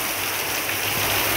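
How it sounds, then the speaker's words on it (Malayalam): Heavy rain pours down steadily while water gushes off a terrace, making a loud, close, unbroken rushing hiss with no talking. "ടെറസിലെ വെള്ളം ചാടുന്നു"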